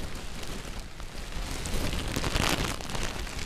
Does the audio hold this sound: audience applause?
no